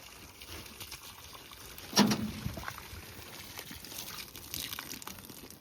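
Water splashes onto damp, moist ground on a ranch in one brief gush, followed by quieter patter and trickling, heard nearby over faint background noise.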